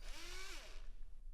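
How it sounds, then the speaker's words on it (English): A power drill with a spade bit boring the spindle hole through a door, a rising whine that winds down and fades after about half a second, leaving quiet room noise. "Now drill from the other side of the door to complete the spindle hole."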